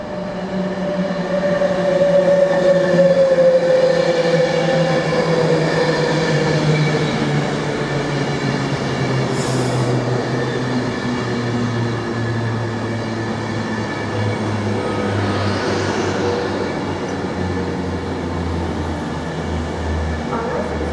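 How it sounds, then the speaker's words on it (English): A Wolverhampton-bound train passes through Coventry station, loud and close, with a sustained rumble of wheels and a rising and falling whine that slowly fades as the carriages roll by. "Wolverhampton train."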